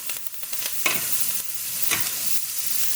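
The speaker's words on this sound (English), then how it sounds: "So I'm going to throw my butter in the pan, and we're going to flip it up just like we did with the scallop, and we're going to baste that." Butter sizzling in a hot stovetop pan as a steak is flipped and basted, a steady crackling fry with brief louder spatters and scraping stirs, close and without talk.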